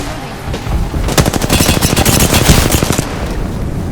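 Rapid automatic gunfire in Apex Legends, bursts of shots striking the player at close range, dense overlapping cracks filling the whole moment with no speech.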